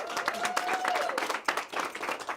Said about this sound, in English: we should give her a round of applause, everybody.